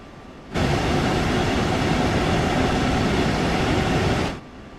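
A train runs in the video game Train Sim World 2, its steady broadband rumble rising suddenly, holding level for several seconds, then cutting off.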